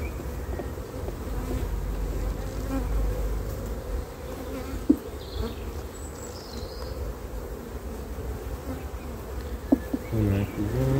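Honeybees at an open hive, where brood frames are being checked, buzz in a dense, steady drone close by, with occasional faint knocks and handling noises and no talk.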